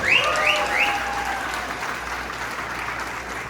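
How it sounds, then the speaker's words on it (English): Wedding guests at a Hindu marriage ceremony give a warm round of applause, a dense wash of clapping with a few high whoops at the start, fading slightly toward the end. "Give them a nice round of applause."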